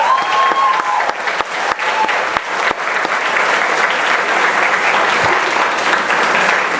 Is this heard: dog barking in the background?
no